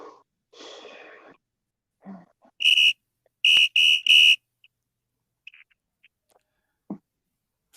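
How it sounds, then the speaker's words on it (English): A referee-style whistle is blown in a fast series of shrill blasts, one then three, loud and close, with some breathing and a few faint noises between them and no talk. "Blow the whistle."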